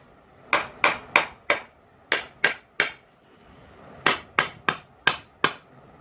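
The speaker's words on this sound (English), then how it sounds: "grab a hammer, lightly give it a few taps" Sharp metallic hammer taps on a BMW E30 M42 oil pan come in two bursts of quick strikes, each ringing briefly, with a short pause between groups.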